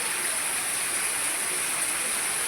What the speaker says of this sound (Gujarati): વરસાદ ફૂલ આવે જો